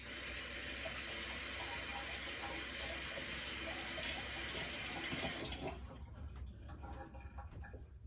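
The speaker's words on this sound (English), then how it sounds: "My hands are sticky, let me give them a quick wash." A kitchen tap runs in a steady stream as sticky hands are rinsed under it, loud and close, then shuts off near the end, leaving a few faint drips and handling sounds.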